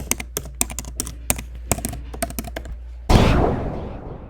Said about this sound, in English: you need to enter the password. So whatever your password on your MySQL server, you need to type it here.